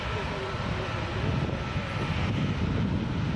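A WestJet jet airliner on flight 655 to Calgary gives off a low, steady engine rumble at moderate level across the brief stretch, with a voice speaking over it.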